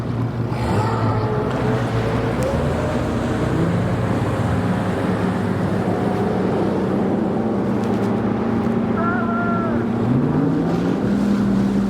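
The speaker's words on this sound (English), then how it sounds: "we got a ton of boats today" Motorboats rumble at a bass fishing tournament on a cold morning, several outboard engines droning and shifting pitch close by, with strong wind buffeting the microphone throughout.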